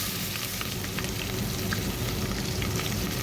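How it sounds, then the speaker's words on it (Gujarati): A tempering of dry red chili, whole coriander, cumin, mustard seeds and asafoetida frying in hot oil for dal dhokli, a dense continuous close sizzle with small crackles and no talk. "સૂકું મરચું લીધું, આખું ધાણા જીરું અને રાઈ ને હિંગ। તો સૌથી પહેલાં આપણે એનો વઘાર કરી નાખીએ।"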